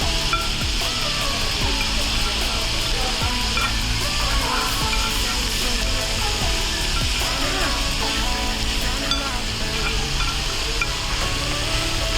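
Food sizzling on a hot plate at Pepper Lunch, a steady close hiss and crackle of frying pork that continues without pause.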